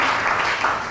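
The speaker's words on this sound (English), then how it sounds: "Let's give them a big round of applause." An audience at a community event in Dallas applauds volunteers, giving a brief, full burst of clapping from many hands.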